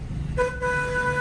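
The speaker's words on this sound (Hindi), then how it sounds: "हॉर्न" A car horn toots once, short and fairly near, over the low hum of the road during a driving lesson.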